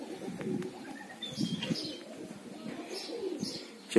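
Pigeons coo softly nearby in a low, rolling murmur, with scattered brief chirps and light wing flutters mixed in, fairly quiet with no talking.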